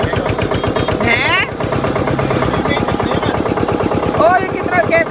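A new tractor engine chugs steadily and loudly while being driven, a constant low mechanical rumble that continues throughout, with people talking over it.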